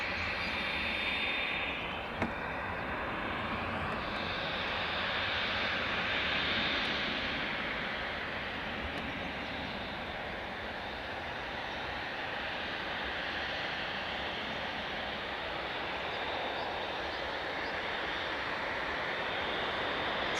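A Turkish Airlines Airbus A321neo arriving from Istanbul at Dublin Airport gives a steady, broad jet roar that holds for about twenty seconds at an even level, fairly distant, with no voices.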